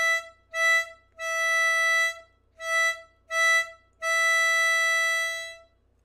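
A harmonica plays the opening Jingle Bells rhythm on hole five, the same blown note repeated: two short, one long, two short, one long, clear and close with quiet gaps between.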